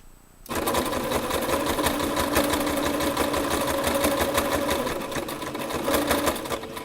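A sewing machine stitches dinner napkin fabric in one steady, close, unbroken run that begins after a brief quiet moment and continues to the end.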